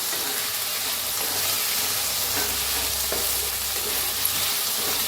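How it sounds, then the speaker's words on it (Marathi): Potatoes fry in a hot pan with a loud, steady sizzle and crackle from start to finish, close up and with no talking. "पहिला आपण काय करूया बटाटो भाजून घेऊया हळवून घेऊया बटाटा"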